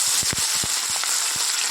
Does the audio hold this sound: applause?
no